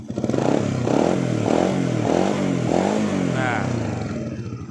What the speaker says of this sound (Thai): อ่าฟังเสียงเครื่องฮะ